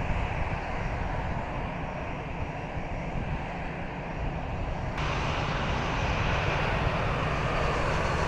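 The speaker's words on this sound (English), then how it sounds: "I'm going to see if I can get a new area to see some of the planes taking off." Aircraft engines roar steadily near Lanzarote airport, a continuous loud drone of planes with a slight shift in tone midway, and no voices present.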